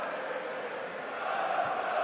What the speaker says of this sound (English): Just woken the Charlton crowd a little bit.